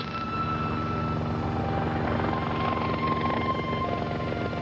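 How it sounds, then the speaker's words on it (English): A helicopter drones steadily overhead, its rotor thumping in a fast, even rhythm, loud and constant with no voices. "a lone helicopter flew over in tribute"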